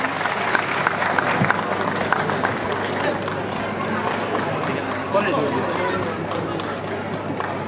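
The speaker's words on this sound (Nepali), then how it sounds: "कृपया जोरदार ताली बजाइदिनु उहाँको सम्मानको लागि" Sustained applause from an audience at the Lok Dohori folk music award ceremony, dense steady clapping from a large crowd throughout, loud and continuous with crowd noise mixed in.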